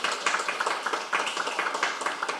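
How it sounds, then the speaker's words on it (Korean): Small audience at a medical innovation policy debate claps in brief, uneven bursts as a lawmaker is introduced. The clapping is fairly quiet and close, with a few individual hands distinct in a modest room. "여러분 박수 부탁드리겠습니다"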